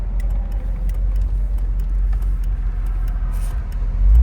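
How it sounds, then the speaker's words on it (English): A 1978 Chevrolet Corvette Indy 500 Pace Car with 5,000 original miles idles steadily, a deep, loud engine rumble heard from inside the car, with a slight swell near the end. "We're going to take it for a drive and see how it does."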